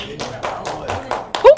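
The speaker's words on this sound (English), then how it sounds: "Who clapping, bro?" Several hand claps in quick, uneven succession, close and sharp, with a louder final clap at the end and a voice talking faintly beneath.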